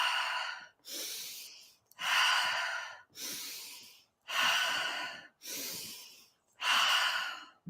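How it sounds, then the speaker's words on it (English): Fast-paced breathwork breathing, six strong, rhythmic breaths alternating long rushing inhales and exhales, close and loud with brief pauses between them, no talking. "But the faster breath pattern, yeah, it would look like this"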